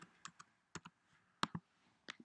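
Several sparse clicks of computer keys as someone types a new name for an object in 3D modelling software, spaced irregularly and quiet, with no speech.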